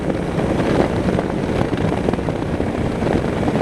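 Steady, loud wind rush buffets the microphone while riding a 2016 Honda Africa Twin motorcycle, a constant broadband roar with no breaks and no engine note standing out.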